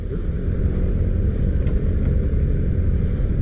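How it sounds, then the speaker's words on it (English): Steady low engine rumble and road noise from a 2023 Suzuki SV650 motorcycle rolling to a stop, a continuous even drone with no clear rise or fall in level. "We're just rolling to a stop here."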